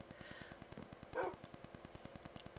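A faint dog bark from the game Minecraft is heard once over a steady, rhythmic ticking of game sounds, with a softer yip shortly before it.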